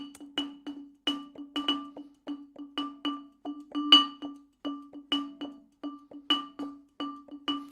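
Muted vibraphone notes played as a steady rhythmic groove in the manner of a guitarist: short, dampened, clicky mallet strikes in a syncopated pattern, alone and fairly quiet.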